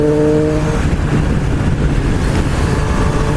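A Triumph Street Triple 765RS motorcycle's engine revs hard on a test ride, a loud, dense, continuous roar close up with no pause and no voices.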